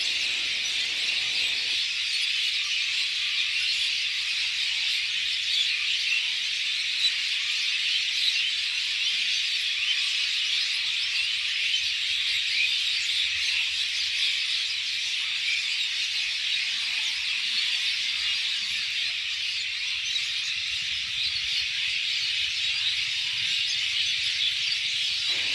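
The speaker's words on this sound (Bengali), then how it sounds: "পাখির কলতান শুনতে থাকেন" Birds near Gopalganj railway station keep up a dense, continuous chorus of high chirping and squealing calls, steady and moderately loud for the whole stretch, with no voices.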